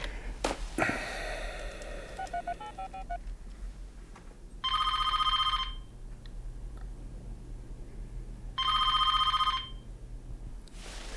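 Two bursts of an old-style telephone bell ring out loud and close, each lasting about a second with a pause between them. Faint rustling and sniffing fill the gaps.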